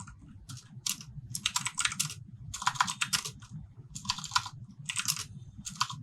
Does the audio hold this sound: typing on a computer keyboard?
yes